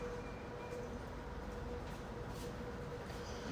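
A Moscow metro train runs with a low, steady rumble and faint rail hiss, a constant interior drone and no one speaking.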